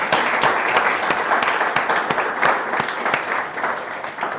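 Audience applause at a fireside chat event, steady dense clapping from a crowd filling the room throughout, fairly loud and continuous with no talk over it.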